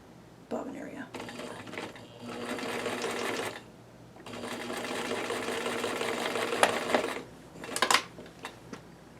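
A sewing machine stitches close by in two long, steady runs separated by a short pause, ending in a few quick bursts while the thread tails are held.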